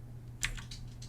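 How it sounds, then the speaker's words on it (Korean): A single quick key press on a computer keyboard, the Alt S shortcut in 3ds Max modeling software, gives a faint, close click against a low steady hum. "키보드에서 Alt S를 누르면"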